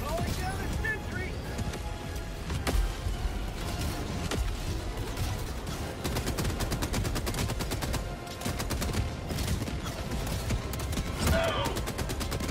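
Sentry gun in Helldivers 2 firing in rapid sustained bursts with dense gunfire and explosions around it, loud and close, a voice speaking over the battle.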